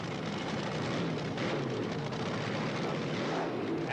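The Frazier and Abbott Jet Special, a jet-powered drag racing car at the 1979 NHRA Gatornationals, gives a continuous, loud, broad roar that holds steady throughout.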